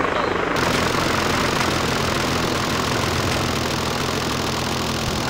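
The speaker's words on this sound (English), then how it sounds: "Armed little bird flying overhead." An armed Little Bird helicopter passes overhead in a military video game, its rotor and engine a loud, steady, continuous roar with no voices.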